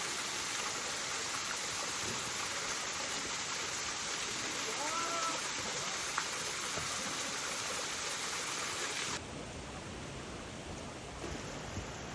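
Rain falls on Madeira island as a steady, dense outdoor hiss that stays even throughout, easing slightly in level toward the end.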